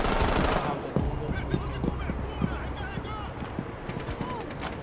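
A G36 rifle fires in Rainbow Six Siege: a loud opening burst, then scattered shots and game effects while players talk over it.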